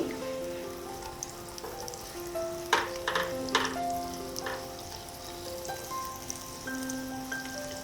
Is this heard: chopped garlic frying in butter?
yes